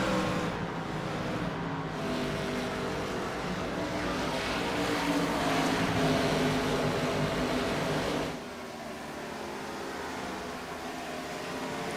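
IROC race cars lapping at Rockingham, a loud sustained engine roar swelling and holding for several seconds before dropping abruptly to a lower, more distant drone.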